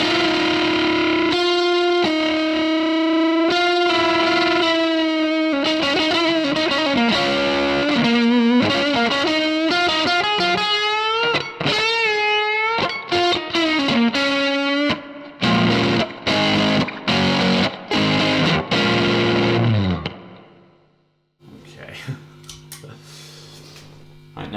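Electric guitar played through a TC Electronic Tube Pilot overdrive pedal with added reverb, distorted sustained notes and bends giving way to choppy staccato chords, then a final strum ringing out into a reverb tail.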